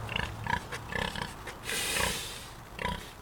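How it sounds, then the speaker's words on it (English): Pigs on a muddy pig farm grunt and snort nearby in short repeated bursts, with a longer wheezy snuffle in the middle and no voices over them. "Sweet bunch of pigs I got."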